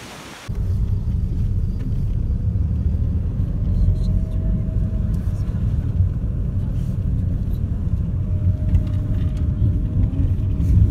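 A car carrying a family drives along the road toward Nahan, a steady low engine and road rumble heard from inside the cabin, continuous and fairly loud.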